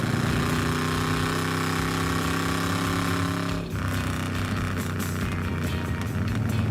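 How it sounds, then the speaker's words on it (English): A 1957 Chevrolet Bel Air engine drones loudly, then the revs drop and a burst of irregular popping and crackling deceleration backfire from the exhaust follows. "Oh, I forgot about the deceleration backfire on this."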